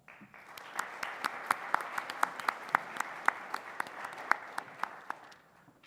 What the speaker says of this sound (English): Round of applause for Ms. Ashley Schimmer.